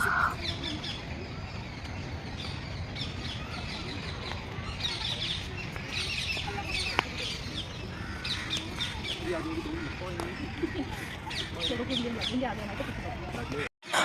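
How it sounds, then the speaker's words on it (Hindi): Birds chirp and call steadily in the open air of a Delhi park at evening, a busy layered chorus with occasional crow-like caws, over a constant outdoor background. "चिड़ियों की चहचहाहट की इतनी अच्छी आवाज़ आ रही थी"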